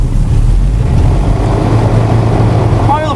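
A training aircraft's piston engine cranks and catches at a flight academy, a loud steady low rumble filling the whole stretch, with a brief rising whine near the end.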